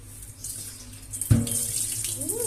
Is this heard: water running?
yes